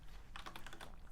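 Code being typed on a computer keyboard, heard as a quick, faint cluster of light key clicks in a short burst, close up and without talk.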